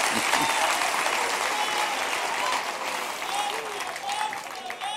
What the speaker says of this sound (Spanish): Dale un aplauso al Rey, hombre.